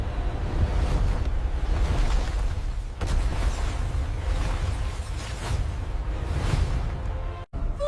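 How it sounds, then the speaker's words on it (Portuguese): Huge ocean wave surging in a film disaster scene, a continuous loud roaring wash of surf and wind with swelling rushes and a brief dropout near the end, no voices. "A onda está chegando!"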